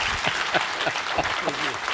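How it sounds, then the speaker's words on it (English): Steady applause from an audience, dense clapping filling the whole stretch at a fairly loud level with some crowd noise underneath. "one more round of applause for the rock star of geopolitics"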